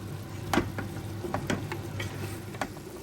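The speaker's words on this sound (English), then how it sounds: "when it's kind of frying like this" Food sizzles steadily in a hot pan as lamb off-cuts are stir-fried with sauce on high heat, while a utensil scrapes and clicks against the pan now and then.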